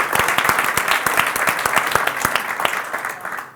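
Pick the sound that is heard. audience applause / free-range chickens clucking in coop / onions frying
audience applause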